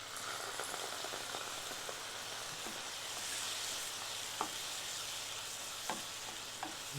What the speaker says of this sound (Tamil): நல்லா கொதித்து வருது பாருங்கள்